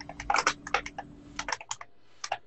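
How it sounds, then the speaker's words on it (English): Computer keyboard typing: close, crisp clicks in short irregular bursts with brief pauses, alone and clearly audible. "I can hear Mark's keyboard"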